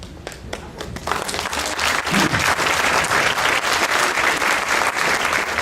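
An audience applauds the Grandes Margot at a celebration, scattered claps at first swelling after a second into sustained, full applause that stays strong to the end.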